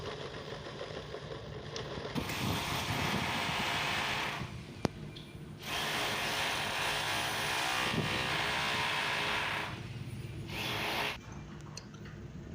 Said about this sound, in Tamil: இது சிடி பாக்ஸில் கேபிள் அவுட் எடுக்கிறதுக்கு கேபிள் கிளாண்டுக்காக ஹோல்ஸ் பண்ணிட்டுருக்குறான்